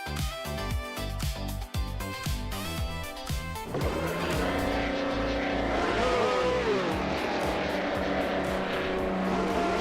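Several racing cars roar off the line at Circuit Lebanon in a racing video game, with a 1971 BRM P160 on pole and a Lotus 72C in the field. Layered engine whines build into a dense, loud, continuous roar as the pack accelerates.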